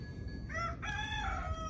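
A rooster crows once on a farm with buffaloes during early-morning milking, a clear, fairly close cock-a-doodle-doo over low background rumble.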